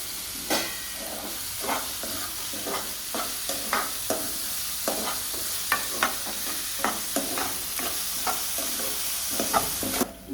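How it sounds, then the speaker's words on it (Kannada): Chopped onions frying in hot oil in a pan until they turn brown, with a loud continuous sizzle broken by regular scraping stir strokes about once a second and no talking. "ಈಗ ಉಳ್ಳಾಗಡ್ಡಿ ಹಾಕಿರೋಣ. ಅದು ಬ್ರೌನ್ ಕಲರ್ ಆಗೋ ಮಟ್ಟ ಫ್ರೈ ಮಾಡ್ಕೋಬೇಕು"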